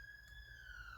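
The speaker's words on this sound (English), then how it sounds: "sorry about that siren noise." A police siren sounds outside, a steady wailing tone that rises slightly, heard from indoors at moderate level over a low background hum, with no talking.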